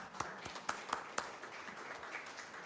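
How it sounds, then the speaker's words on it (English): Sparse claps from a small audience at an entomology meeting: a handful of distinct, fairly faint hand claps in the first second or so, then a dwindling low rustle. "You have to clap."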